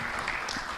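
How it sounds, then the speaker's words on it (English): Brief audience applause at an energy policy conference session, a dense wash of clapping from a crowd in a hall, short and fairly soft. "A round of applause, everyone, to our speakers"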